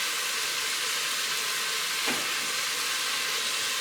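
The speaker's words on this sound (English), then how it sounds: "We're going to finish searing off the beef" Beef sears in an Instant Pot with a steady, loud sizzle and hiss that holds evenly throughout, with a brief soft swish partway through.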